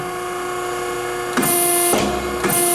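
A Neff D4-5M down-acting C-frame hydraulic bench press runs with a steady tonal motor hum. Bursts of hissing hydraulic noise rise partway through and pause briefly before resuming, close by with no talk.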